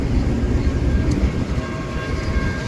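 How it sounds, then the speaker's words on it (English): A BNSF freight train rolls past a crossing close by, a steady, loud rumble of wheels and cars with a faint high squeal on top and no voices. "We couldn't even get to the station before we saw this train."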